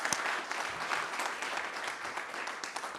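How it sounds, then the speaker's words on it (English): An audience at a university business pitch competition gives a steady round of applause, dense clapping from a crowd heard at moderate distance for a few seconds. "I think that deserves another round of applause"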